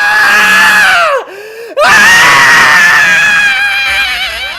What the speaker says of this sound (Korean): 소리를 지르기 시작하는